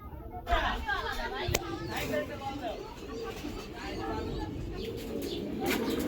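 A racing pigeon farm's birds keep up a constant low cooing and rustling chatter, close and steady, with someone speaking over the flock.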